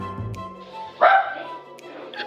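A single dog's bark bursts out once at close range, loud and brief, with quieter background sound before and after.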